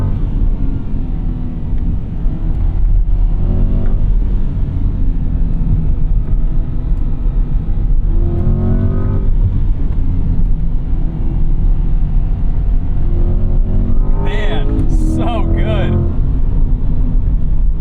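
Steady engine drone and road rumble from a 2024 Chevrolet Corvette C8 Z51, with rising engine tones swelling toward the end as the V8 revs toward its redline, heard under a speaking voice in the cabin.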